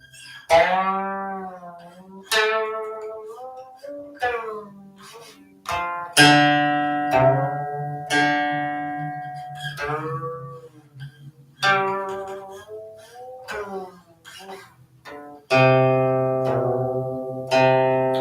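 Plucked guqin playing the piece Qiufengci (Song of Autumn Wind), with the upper couplet played louder; a series of bright, ringing plucked notes and sliding tones with long decaying resonance, played solo at a measured, phrase-by-phrase pace.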